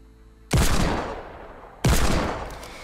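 Two loud revolver shots from Fortnite, spaced about a second and a half apart, each a sharp crack with a long decaying tail, with no talking.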